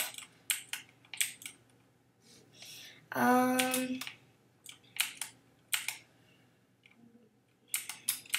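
Bursts of keyboard typing clatter in short runs, with a brief rising synthetic tone in the middle and a quiet voice murmuring once.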